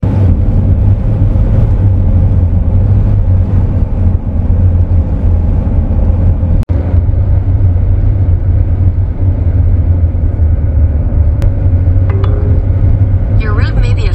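A 21-year-old Honda Element drives through winter conditions near Lee Vining, California, its engine and road rumble a loud, constant drone throughout, with people talking over it.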